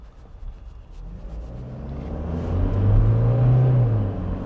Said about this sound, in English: I just love revving this car.